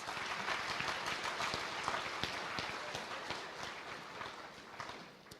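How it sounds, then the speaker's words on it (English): Quiet, distant audience applause for contestants at a Kansas FFA state event, a steady patter of clapping that slowly fades. "Join us in a final round of applause for those contestants."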